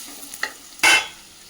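Onion and green chilli hitting hot oil in a home kitchen, a couple of light clinks then a sudden loud sizzling burst that fades over half a second, close up with no talk.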